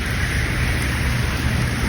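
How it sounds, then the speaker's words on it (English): Loud rain pours outdoors as a steady, dense broadband hiss that stays constant throughout, with no voices over it. "The rain is too loud."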